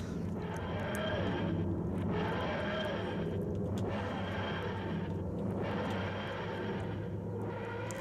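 TARDIS takeoff start-up sound from a Minecraft TARDIS plugin, a continuous roaring engine-like drone with rising and falling pulses in a steady cycle, loud and unbroken with no talking.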